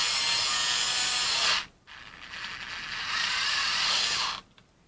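HART 4V rechargeable screwdriver whirs with a ratcheting, grinding mechanism, then cuts out abruptly as it stalls under torque, starts again briefly and stops once more.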